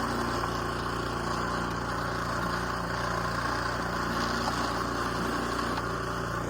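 A snowblower engine runs continuously at a steady idle, a loud, constant mechanical drone with no talking.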